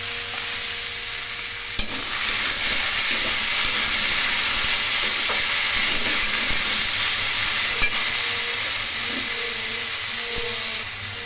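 Vegetables for betho shak fry with turmeric and salt in a hot pan, giving a loud, continuous sizzle with faint scraping as they are stirred, a sharp tap near the start.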